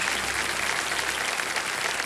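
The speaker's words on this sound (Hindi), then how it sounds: "तारीफ के लिए आप ताली बजा सकते हैं।" Studio audience at a television quiz show clapping together in a steady, dense burst of applause that fills the whole short clip, with no talking over it.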